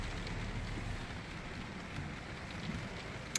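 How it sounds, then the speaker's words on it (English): Steady soft patter of rain falling on a car weeks after Hurricane Michael, a faint even hiss with scattered drops and one sharp tap near the end, no voices. "Whoop, it's raining."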